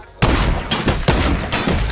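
Several loud semi-automatic rifle shots in Fortnite Battle Royale ring out alone at an uneven rhythm, each sharp crack followed by a sustained gunfire wash.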